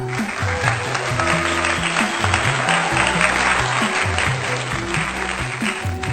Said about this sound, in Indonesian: Suara tepuk tangan yang gemuruh dari semua para penonton membuat suasana acara semakin meriah